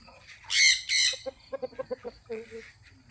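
An ordinary chicken lets out two loud, harsh squawks, followed by a rapid series of short clucks that trail off, close and clear, with no talking.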